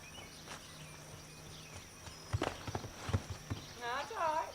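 A horse's hooves on the ground make several clip-clop thuds, followed by a short whinny, with crickets and a voice speaking in the background.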